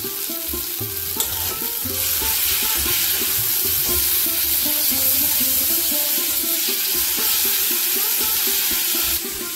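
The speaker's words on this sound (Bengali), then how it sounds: "আদা রসুন বেটে রেখেছি, এটা দিয়ে দিলাম।" Ginger-garlic paste sizzles loudly in hot oil in a pan while being stirred, with steady frying crackle and repeated scraping strokes throughout, during a bottle gourd chicken cooking session; no talking.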